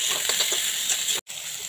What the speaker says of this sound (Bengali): যে আলু আর পটলটা আমি কেটে রেখেছিলাম, এটা আমি তেলের মধ্যে দিয়ে দিচ্ছি। এটা ভেজে নিতে হবে ভালো করে